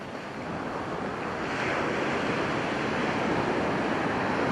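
Surf rolls steadily onto a largely deserted stretch of beach, a continuous broad wash of breaking waves mixed with wind buffeting the microphone, swelling slightly louder midway and with no voices.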